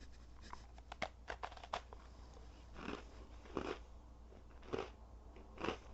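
Crisp bites and crunchy chewing on a Post Malone Oreo cookie, close and quiet, with a run of rapid small crackles early on and several louder crunches spaced out over a soft background hum.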